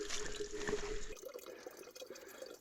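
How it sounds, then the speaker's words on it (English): Fresh water trickles and drips at a mountain water point on a high-altitude trek in Ladakh, a close, continuous bubbling flow that drops suddenly to a softer dribble partway through. "Yeah, fresh water."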